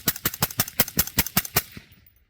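A suppressed PWS MK116 Mod 2-M rifle fires a rapid string of about ten close, sharp shots in quick rhythm, ending with a short fading tail.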